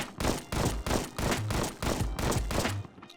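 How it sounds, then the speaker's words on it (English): Shotgun hip fire in the video game Combat Master, about eight loud, evenly spaced blasts fired in steady rhythm, each with a short decaying tail, ending in quiet. "If I'm just straight up standing still and I hip fire"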